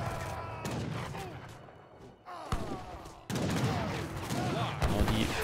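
Arquebusier musket volleys in the video game Age of Empires 3, bursts of crackling gunfire and heavy thumps in a chaotic battle mix, with the volume jumping in sudden loud bursts.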